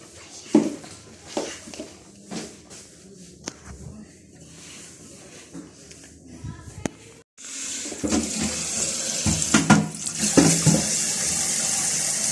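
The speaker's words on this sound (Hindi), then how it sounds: "पानी भर लेती हूँ" Water runs from a kitchen tap into a container while cooking kadhi pakoda, a steady hissing gush starting partway through and continuing, with scattered clinks and handling noises before it.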